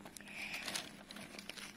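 Treasure X Aliens toy packaging is cut open with quiet crinkling and crackling of plastic and a few faint snips, all close and soft.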